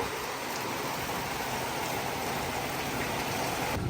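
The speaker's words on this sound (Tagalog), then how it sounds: "Pero dito lamang po naulan." Steady heavy rain pours down across a wide area, a dense continuous hiss that holds level from start to finish, with no voices.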